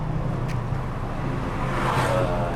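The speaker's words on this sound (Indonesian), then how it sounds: "Jadi Kuala Lumpur ini memang macet" A slow traffic jam in Kuala Lumpur, with car engines idling and creeping along nearby. The rumble is steady and moderately loud, with no horns.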